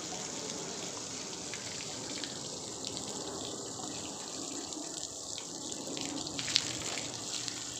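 Water spraying hard from a bathtub hot-and-cold mixing faucet under test, a steady, even gushing hiss running the whole time without speech.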